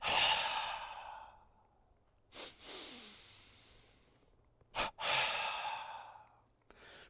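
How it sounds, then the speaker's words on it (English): Deep breaths taken alone and close up in a double-breath breathing exercise: a long exhale, then a quick short inhale followed by a longer one, and another long breath out. "in certain exercises, we're going to use what's called a double breath"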